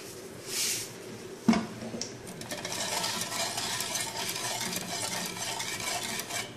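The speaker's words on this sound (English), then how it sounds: "So slowly add it while stirring it continuously" A stirrer scrapes and swirls through gram flour (besan) gravy cooking over a high flame, with a sharp clink near the start followed by a steady wet churning that continues throughout.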